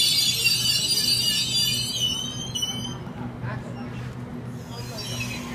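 Sydney Trains Waratah set A25 pulls into Waverton station, its wheels squealing in high, sustained tones over a steady low rumble that eases as the train slows.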